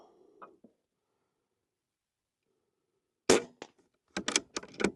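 An Umarex Gauntlet PCP airgun fires at metal spinner targets, a sharp close shot followed by a few quick clanking hits and spins, after near silence, with a brief voice at the start.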